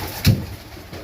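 Junior highflyer pigeons in a loft give one short, close coo, with quiet room air around it.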